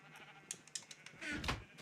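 Minecraft sheep bleat in quick succession, several short wavering calls close by, with faint clicks between them, all fairly quiet.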